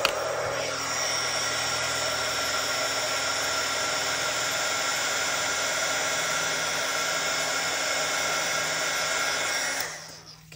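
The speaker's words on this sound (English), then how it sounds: "take your heat tool and heat it up for just a minute" A heat tool blasts steadily to melt embossing powder for a papercraft card, a loud continuous hot-air roar lasting about ten seconds before cutting off at the end.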